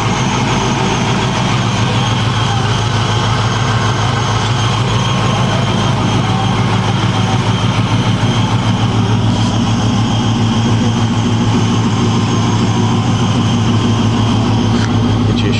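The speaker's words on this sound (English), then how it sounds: "Here's the LS1 engine." An LS1 V8 engine in a 1969 Camaro idles steadily with a deep, even rumble, close and continuous with no other sounds.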